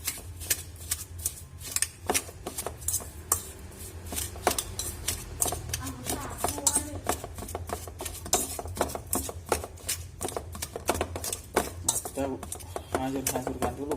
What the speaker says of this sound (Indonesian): kita hancurkan kentangnya ini.